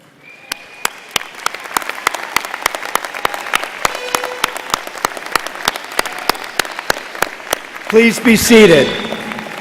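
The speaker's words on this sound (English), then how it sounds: "join me in applauding our graduates" Applause fills a commencement hall as an audience claps for new medical school graduates, a dense steady patter with loud sharp claps standing out nearby, before a voice speaks near the end.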